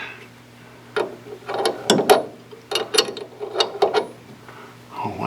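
A brake pipe fitting being tightened with a spanner on the front brakes of a Morris Minor, heard as a series of close ratcheting clicks and metallic turns in irregular bursts, with no talking.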